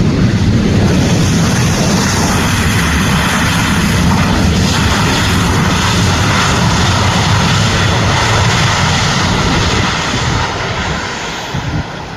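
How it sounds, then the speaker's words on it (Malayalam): A loud, continuous airplane engine roar close overhead as the aircraft flies in to land at an airport, sustained and steady before easing slightly at the end as it passes. "ഞങ്ങളങ്ങനെ ആകാംക്ഷയോടെ കാത്തിരിക്കുന്ന ആദ്യത്തെ ഫ്ലൈറ്റ് ഇതേ വരികയാണ് കേട്ടോ"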